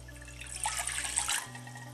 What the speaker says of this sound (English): In a saucepan, we're going to pour the water